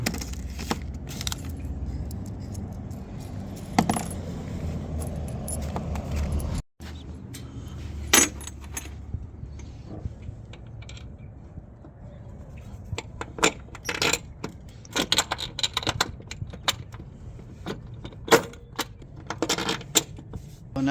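Metallic clinks and light rattles ring out as a 12mm bolt and nut are fitted to a brake booster delete kit on a K-swapped EG hatchback, with scattered sharp ticks over a low background hum.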